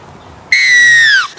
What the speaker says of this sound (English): Long whistle tones are used for kickoffs, penalties and tries.